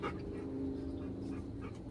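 A dog whines and whimpers in a steady, close, high-pitched drawn-out tone over low room noise, during an unboxing of a harness and other pet supplies.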